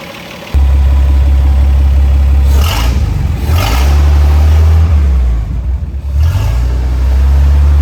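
A vintage Hispano-Suiza H6B car engine cranks on a dash push button and fires into a loud, deep, steady idle close by, with several brief blips of revving rising over the rumble.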